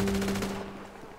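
A short rapid burst of automatic gunfire in GTA roleplay with a humming tone beneath, quickly fading out.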